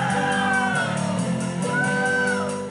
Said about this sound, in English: they were entertaining a rowdy Auckland crowd